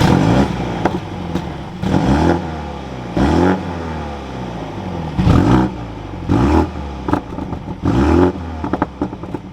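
A 2021 BMW M235i Gran Coupe xDrive engine starting up, a loud close crank that catches into revving bursts, the engine note rising and falling repeatedly before settling, with no talk.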